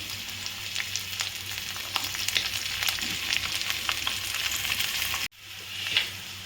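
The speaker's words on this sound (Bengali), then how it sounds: "বাদাম দিচ্ছি আর কাঁচা লঙ্কাটা দিয়ে দিচ্ছি।" Peanuts and green chillies fry in hot oil with cumin seeds, giving a steady, close crackling sizzle with small pops. The sizzle briefly cuts out near the end, then resumes.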